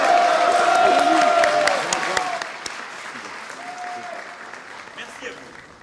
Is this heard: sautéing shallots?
no